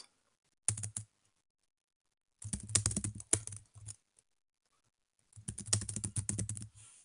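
Someone types a message on a computer keyboard in three short bursts of rapid, close key clicks separated by silent pauses.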